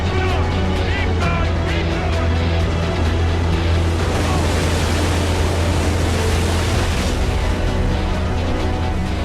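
Heavy six-foot sea waves three miles offshore, a loud continuous roar of surf and churning water with a deep low rumble, as landing craft launch amphibious tanks in a wartime documentary.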